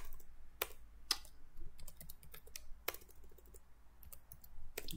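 Typing on a computer keyboard during C++ programming, with irregular bursts of light key clicks and a few sharper, louder taps, heard close with no talk.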